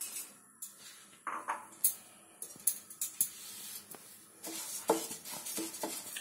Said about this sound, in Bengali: শুকনো কড়াইতে আমি এই ডালটা ভেজে নেব